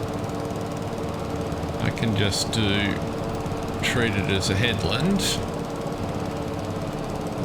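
A mowing machine cutting grass in a farming game hums steadily in the background, a low continuous engine drone beneath a voice speaking over it.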